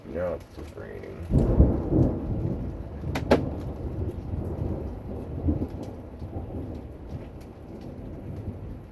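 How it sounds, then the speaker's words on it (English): Steady rain falls right after an August hail storm, a continuous hiss of drops on surfaces, broken by a couple of sharp cracks early on and a brief voice in the background. "Now it's just raining."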